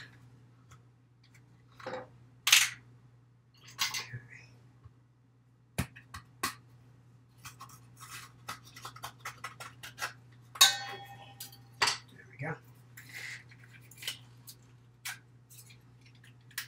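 A new baking powder container being opened, a series of sharp close clicks, taps and plastic snaps spaced irregularly over a faint steady background hum.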